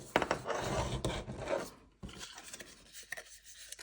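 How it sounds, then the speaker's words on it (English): A bone folder burnishes paper, making soft, quiet rasping and rubbing strokes in short uneven bursts with brief pauses between them. "it could do with the burnishing tool, like we've got what we call a bone folder here is what I'm using."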